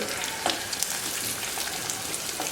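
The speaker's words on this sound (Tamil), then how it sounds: "அப்புறம் வெங்காயம் போட்டுக்கிறோம் இதை கொஞ்ச நேரம் நல்லா வதக்கிட்டு" Sliced onions with garlic fry in hot oil for sundakkai kara kuzhambu, a dense, even sizzle heard up close for a couple of seconds with faint crackles and no talking.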